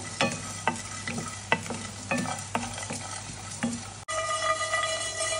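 Cloves, poppy seeds and cashews dry roasting in a pan, stirred in a steady rhythm of about eight scraping strokes with a light sizzle, then a louder continuous hiss after a brief break.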